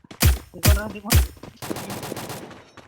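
Rapid gunfire from a syringe gun in the mobile battle royale game Free Fire, three loud close shots followed by a quicker, softer burst of repeated shots, with no talk.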